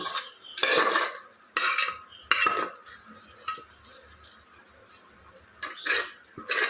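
A spoon stirs a mashed onion mixture in a pan as already-cooked mutton is added, with sizzling and scraping strokes against the pan in several bursts, close and clear, no voices.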